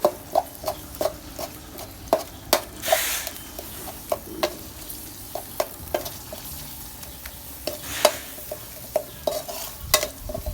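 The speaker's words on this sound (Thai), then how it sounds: "เราก็ค่อยๆผัดไปจนกว่ากะปิมันจะสุกหอม" Rhythmic scraping and tapping of a spatula in an old wok over a soft, steady sizzle of frying shrimp paste, strokes coming every second or so.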